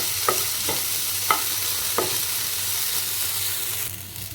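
Chana dal roasting in a pan for Odia-style sabudana khichdi, a steady gentle sizzle with four sharp scraping stirs of a spatula early on, then quieter frying alone.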